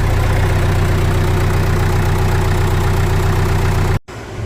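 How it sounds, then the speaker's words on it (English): A farm tractor engine idles in the snow with a loud, steady low rumble and even knocking pulse, running unbroken for about four seconds before cutting off abruptly, followed by a quieter hum. "now that this one's going, we'll plug in the bale chopper tractor"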